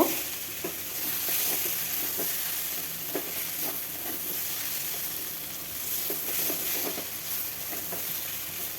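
Steady sizzling of food frying in a pan with garlic and green chilli paste, with soft scraping from stirring now and then throughout.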